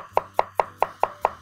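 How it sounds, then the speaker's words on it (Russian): A knife chops carrots on a cutting board for a Polish village soup, seven crisp, evenly spaced thuds in a steady rhythm, close and distinct with nothing else heard. "Нарезаем морковь."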